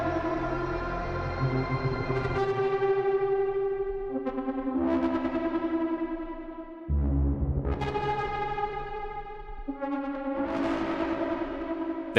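A broken, distorted synth patch with soft-clipped output plays sustained buzzy chords that shift pitch every few seconds, with sharp new attacks and echoing tails, loud and steady throughout.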